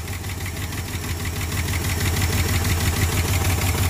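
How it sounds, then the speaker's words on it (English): A fuel pump runs on a 1974 Ford F250 4x4 high-boy truck that sat for years, a steady, continuous mechanical hum and throb with a faint rhythmic pulsing, close and unbroken throughout. "But our fuel pump is working."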